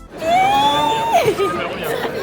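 Crowd of visitors at a fan convention, a steady indoor hubbub of overlapping chatter with a clear voice rising above the babble throughout.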